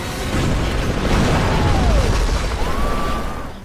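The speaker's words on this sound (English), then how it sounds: "attempt to light up a fueling station, resulting in an explosion that wouldn't be out of place in a Michael Bay movie" A fueling station explodes after being lit by flares in a Fear Factor stunt, producing a loud, sustained roaring blast with deep rumble that swells and holds for several seconds before tapering slightly.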